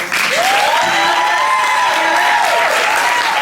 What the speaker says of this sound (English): Round of applause for our wonderful.